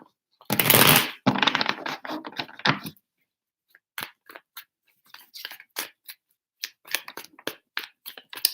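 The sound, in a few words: shuffling tarot cards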